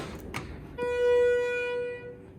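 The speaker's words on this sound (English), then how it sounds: "Let me ring the bells" A single electronic elevator chime on an early Schindler 330A hydraulic elevator rings out with a clear, sustained bell-like tone that slowly fades, preceded by a couple of soft mechanical clicks.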